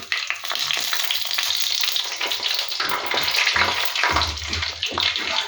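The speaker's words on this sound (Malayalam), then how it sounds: "നമുക്ക് വറമുളകും കൂടി ഇടാം" Dried red chillies crackle and sizzle in hot oil with mustard seeds, a dense hissing fry that swells midway as a low thud of added ingredients lands, no talking.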